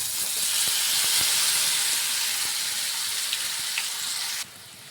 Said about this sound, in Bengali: ঠিক আমরা এখানে 1 থেকে 2 মিনিটের মতন ভালো করে উল্টে পাল্টে ভেজে নেব